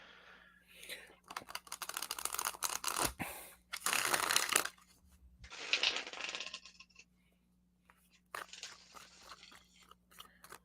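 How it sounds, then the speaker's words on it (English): A deck of playing cards is riffle shuffled close up, giving several bursts of crisp, rapid fluttering clicks separated by brief pauses, with soft chatter nearby. "This deck riffle shuffles like a dream, so it does."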